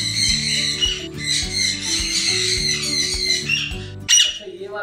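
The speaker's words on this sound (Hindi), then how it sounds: "बहुत सारे तोते उन्होंने रखे हुए हैं अपने पास घर के अंदर ही" Many parrots kept indoors in a small room at a home in Pakistan squawk and whistle nearby, with repeated shrill calls over a busy chatter and a louder burst of squawks near the end.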